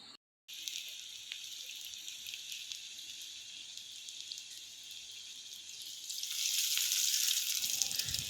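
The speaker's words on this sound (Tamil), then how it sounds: "மிதமான சூட்டில் ஒன்று ஒன்றா போட்டு பொரித்து எடுத்துக்கலாம்." Steady crackling sizzle of potato and cheese balls frying in hot oil, growing louder and busier near the end, with no talking.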